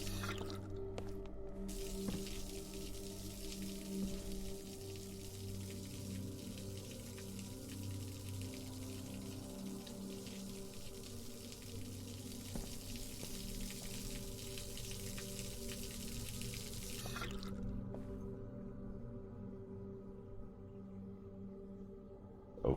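A faucet runs and drips water in the video game Observer, a soft, steady watery hiss over a low electrical hum that stops abruptly near the end and leaves only the hum.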